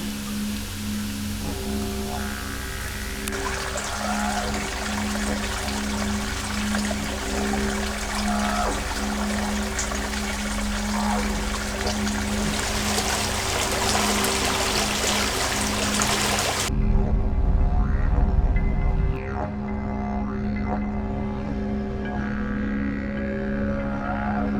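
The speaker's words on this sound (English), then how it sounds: "we saw a smaller waterfall backing a pretty serene and solitary plunge pool" Water from a small waterfall spills into a still plunge pool at a creek below an Aboriginal sacred site, a steady rushing wash that holds constant, then thins to a quieter trickle near the end.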